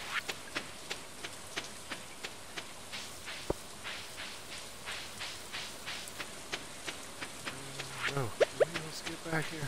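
Steady light rain pattering on a farm in Stardew Valley, a soft continuous hiss with regular faint ticks, and brief chirpy game sounds near the end under quiet talk.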